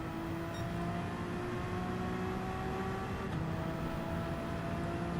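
A racing video game car engine drones steadily at a high, sustained pitch, with faint gear-shift changes and no pauses, heard alone without talk.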